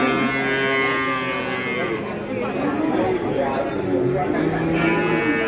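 Limousin calves moo loudly and repeatedly at a cattle market, long overlapping lowing calls close by, with people talking and general chatter underneath.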